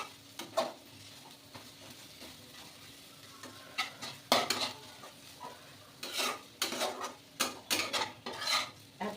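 A spoon stirs food cooking in a pan with oil and a little water, giving irregular clattering scrapes and clinks against the pan, with faint sizzling beneath. The clatter grows busier and denser toward the end.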